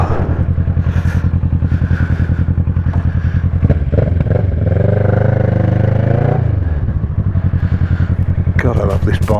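A 2010 Kawasaki ER6N motorcycle engine runs loud and close, its rumbling parallel-twin note rising and falling with throttle blips, accompanied by clattering mechanical noise and a voice speaking over it.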